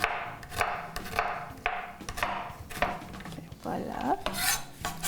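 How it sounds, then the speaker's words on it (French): Garlic cloves being chopped finely with a knife on a board while oil heats on the stove, producing rapid close rhythmic taps and scraping strokes that continue steadily through the clip. "Puis vraiment, les hacher encore vraiment finement"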